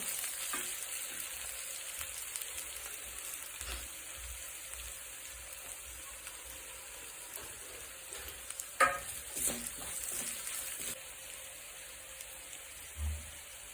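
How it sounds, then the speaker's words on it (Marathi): Ginger garlic paste and turmeric fry in a pan with a soft, even sizzle, quiet and continuous, punctuated by a few faint knocks and scrapes from stirring. "अद्रक लसूणची पेस्ट। पण 2 मिनिट परतायचं आहे"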